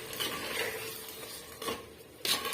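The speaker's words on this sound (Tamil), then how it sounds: "சேர்த்துட்டு ஒரு டூ மினிட்ஸ்க்கு இதுலேயே வந்து வதங்கி வரட்டும்" Ground masala paste sautéing with vegetables in a pan for a dried-fish (karuvadu) curry: a steady sizzle runs throughout, with scraping stirs and a couple of louder utensil clanks near the end.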